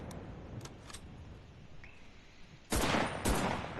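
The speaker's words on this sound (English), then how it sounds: "this is the rank 3 Pavesi M42. I like it. It hits kind of hard." Pavesi M42 rifle in the shooter game Enlisted: after a quiet stretch, two loud, sharp, close shots ring out about half a second apart.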